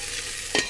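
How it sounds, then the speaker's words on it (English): Ground tasso sausage sizzles in a hot pan for a sauce, a steady soft frying hiss with a brief louder burst of crackle near the end as it is stirred. "The beautiful sizzle."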